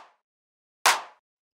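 A dry electronic clap sample in a deep house beat in FL Studio, played without wave-shaper saturation: one sharp, short, bright hit alone, with a faint tail of a previous hit at the start.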